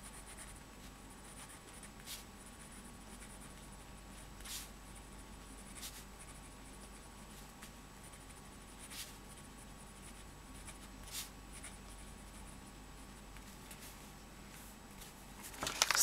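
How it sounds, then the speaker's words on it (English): Luoshi Cigarette fountain pen writing on paper, a faint steady scratchy glide with occasional soft taps as strokes begin, close and quiet throughout with no talking. "So it does write smoothly, and really smoothly for that matter."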